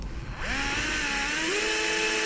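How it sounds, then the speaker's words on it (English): A power drill fitted with a small, dull 1/16-inch bit bores through plastic, whining up after a short pause and holding a steady, fairly close high-pitched grind for about two seconds. "So the drill bit is really dull and it's really small."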